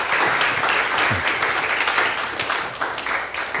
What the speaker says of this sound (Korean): 우리 다시 한번 우리 교수님한테 감사의 박수 한번 해주시면 좋을 것 같아요.